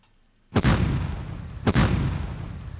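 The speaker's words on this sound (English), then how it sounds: "Why don't I go ahead and attack it with just my medium tank?" A medium tank attack in the strategy game Advanced Tactics Gold: two loud, close, booming shots about a second apart, each trailing off in a long rumbling decay, with no talking.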